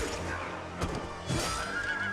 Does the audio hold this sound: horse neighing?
yes